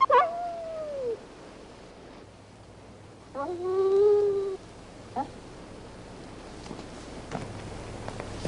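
A dog that fell ill after eating food in a park whimpers in a few drawn-out, falling whines: one near the start, a longer one mid-clip and a brief cry after, with quiet pauses between.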